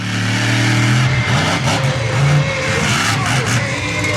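A monster truck engine revs hard and loud through a big jump, its roar steady and near with rising and falling pitch and a brief skidding edge.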